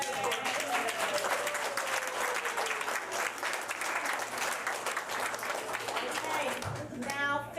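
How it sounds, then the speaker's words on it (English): At a Board of Education meeting, the room applauds for Lila with a steady wash of many hands clapping at moderate volume, tapering near the end. "let's give Lila a round of applause"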